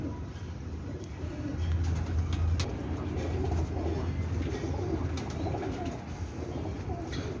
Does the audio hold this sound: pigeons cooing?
yes